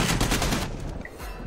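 Dense, loud gunfire from the shooter game Army of Two rattles in rapid bursts for a moment, then drops back to a quieter background.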